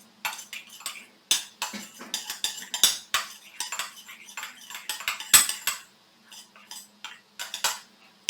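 Blue food coloring being stirred into a bowl with a spoon: a long run of small metallic clinks and scrapes against the bowl, close and fairly quiet, with brief pauses and no talking.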